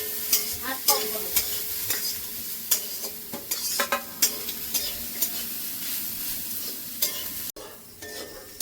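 Food stirred in a frying pan over a steady sizzle, with frequent close, sharp scrapes and clacks of the spatula against the metal in an uneven rhythm, then a brief drop in sound near the end.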